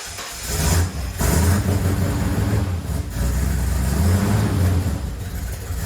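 A Ford Bronco's engine revs up and down in a garage, with loud, close, rumbling surges and brief dips between repeated throttle blips.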